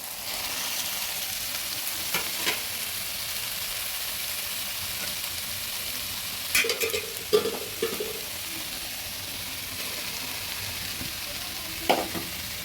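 Grated taro goes into hot oil with a hilsa fish head and is stirred, a low steady sizzle running throughout with a few clinks and scrapes of the spoon against the pan, no voices.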